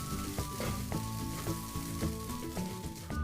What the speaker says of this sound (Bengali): এবার ভেজানো চালগুলো দিয়ে দিলাম। মশলার সাথে চালগুলো মিশিয়ে নেব।